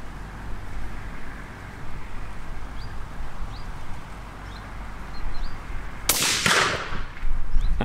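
Single rifle shot, a sharp loud crack near the end, following several seconds of quiet outdoor ambience with faint birdsong.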